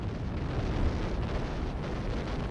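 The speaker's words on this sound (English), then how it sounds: "The American 155mm gun was just one of the devastating weapons deployed." An American 155mm artillery gun firing in a World War II barrage at Monte Cassino: a continuous, loud, rumbling roar of heavy blasts that fills the low range, with no voices.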